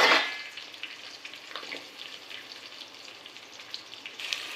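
Onions fry in hot oil with curry leaves for Rayalaseema uggani, giving a quiet, continuous crackling sizzle after a louder burst at the start.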